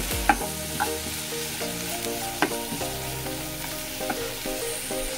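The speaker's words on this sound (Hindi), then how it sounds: "आता एक ऑनियन घायला, मातसो सॉटे करपाचो." Onion sautéing in a pan for a Goan stuffed egg fry, cumin already added: a steady close sizzle with a spoon stirring and scraping against the pan several times, no voices.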